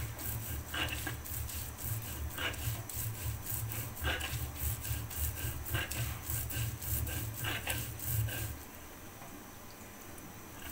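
Fresh raw spices are ground on a small stone grinding slab, a mini pata, for a spinach and puti fish dish, making steady, rhythmic back-and-forth rubbing strokes close up that ease off near the end, with no talk.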